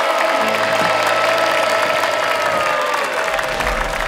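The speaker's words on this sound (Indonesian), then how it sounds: "Tepuk tangan dulu buat para panelis kita." An audience at a TV talent show claps and cheers for the panelists, steady applause throughout with a sustained musical tone underneath.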